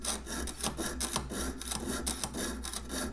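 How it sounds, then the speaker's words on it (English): A nano jeweler's saw blade, size 3/0, cuts through steel in a steady back-and-forth rasp, each close stroke rising and falling in a quick, even rhythm with nothing else heard. "I am sawing such a straight line. Usually I struggle with that because steel is just that much harder."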